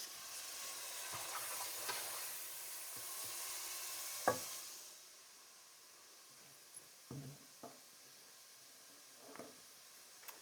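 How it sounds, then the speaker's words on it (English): Meat frying in a pan for a Kenyan dish, a soft steady sizzle for the first few seconds that then fades out, leaving quiet scattered clinks and taps of utensils. "the frying bit will make sure the meat is kind of like choma, a bit firm"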